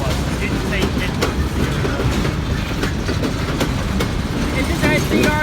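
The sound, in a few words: freight train with EMD locomotives passing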